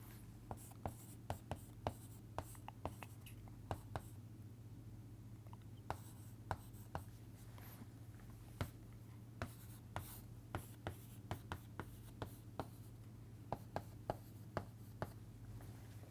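A pen writes on paper through a maths tutorial, making sharp scratchy strokes and taps in irregular bursts, close and quiet over a steady low hum, with no talking.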